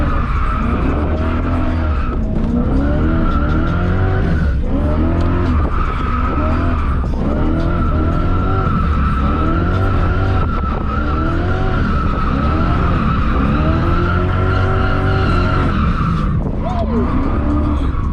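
A car drifting at a drift event, its engine revving in repeated surging waves over sustained loud tire squeal and skidding, close and continuous for the whole stretch with no clear talk.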